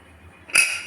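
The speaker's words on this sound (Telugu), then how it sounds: "అన్నీ వేసాక మూత పెట్టేయాలి" A lid set onto a pot of dal made with bachali greens, a single sharp metallic clink at close range that rings briefly and fades.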